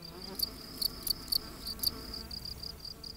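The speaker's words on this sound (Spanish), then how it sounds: "Cuando los grillos se frotan las alas, crean ese sonido característico." Field crickets rubbing their wings in a quiet summer landscape give a steady series of high, evenly spaced chirps, moderately near, over a soft outdoor background with no voices.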